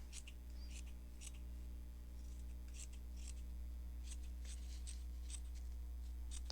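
Scissors snip through fabric in a series of short, crisp cuts, soft and close against a steady low hum.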